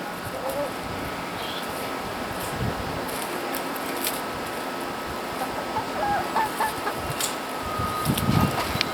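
Chickens cluck softly in the background while people talk nearby, with faint bird calls scattered through the steady outdoor ambience.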